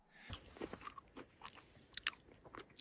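Someone chews a crunchy breakfast while camping in the cold wild, with a string of close, crisp bites and crunches at an irregular rhythm and no talk.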